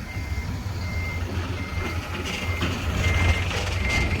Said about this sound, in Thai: อันนี้ก็จะถอยเอาหางโรเบียตัดไว้นะครับ